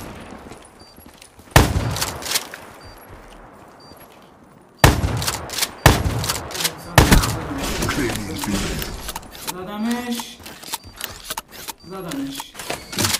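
Gunfire in Call of Duty Black Ops III, loud sudden bursts of rapid shots and single cracks, close and sharp, with game effects and excited talking throughout.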